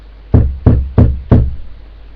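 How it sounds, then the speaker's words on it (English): Four firm, evenly spaced knocks on a door, close and loud, each with a short hollow decay, with no voices. "So I went round in my car and knocked on the door."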